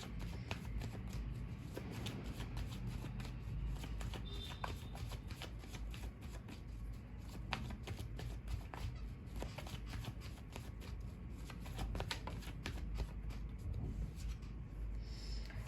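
Tarot cards shuffled by hand, a quick run of crisp riffling and flicking snaps repeating steadily, close and quiet against a soft background hiss.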